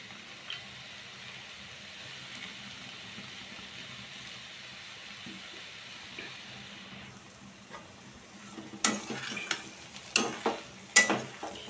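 Masala for a potato and green pea bhaji stir-fried over a low flame in a pan, a steady soft sizzle that turns into sharper scraping stirs and clatters near the end, with no talking.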